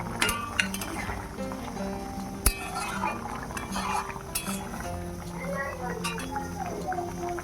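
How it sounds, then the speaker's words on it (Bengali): Lentil dumplings (bori) dropped into a pan while cooking shukto, with close clinks of utensils against metal and soft liquid bubbling underneath, as a voice talks in the background. "এবার বড়িগুলো অ্যাড করে দিচ্ছি।"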